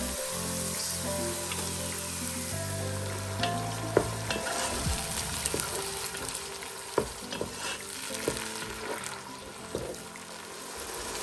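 Garlic, ginger and tomatoes fry in a pan with a steady sizzle, broken by stirring scrapes and sharp pops, with no talk over it.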